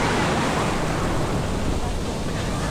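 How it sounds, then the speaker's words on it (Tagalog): Strong ocean waves surge onto the shore at Puerto Galera beach, a steady broadband rush of surf with wind buffeting the microphone throughout, loud and continuous with no break. "Malakas lang talaga alon, no?"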